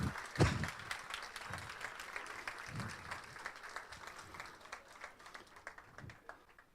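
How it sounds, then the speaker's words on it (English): Conference audience at an Experts Live India engineering event gives light, scattered applause, a soft patter of claps with a few louder hits near the start, fading gradually, while faint voices murmur underneath. "Give a big round of applause."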